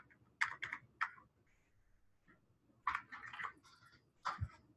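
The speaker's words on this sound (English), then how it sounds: "Imagine that I'm not typing and that I had a little scanner." Fingers type on a computer keyboard, giving quiet clusters of sharp clicks broken by short pauses, close and alone.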